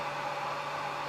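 Hair dryer blowing steadily while heating vinyl doll leg pieces during a Smart Doll Gen 2 build, a constant close whooshing hiss with a faint motor hum, no voices.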